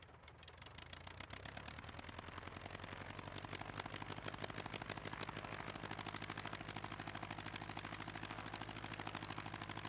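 A light aircraft piston engine runs up before takeoff, doors off, holding a loud, steady drone that rises slightly in the first seconds and then stays constant and close throughout.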